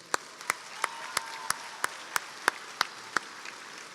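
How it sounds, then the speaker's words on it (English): Sparse, evenly spaced single claps ring out in a large hall at a college honors convocation, about a dozen crisp hand claps over a faint background hum. "I ask our graduates, faculty, and staff to join me in a round of applause"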